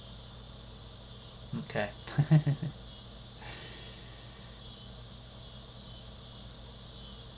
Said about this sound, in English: Just my back door is opened. There's lots of cicadas out there.